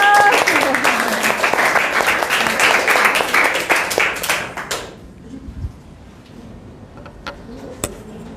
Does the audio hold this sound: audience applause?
yes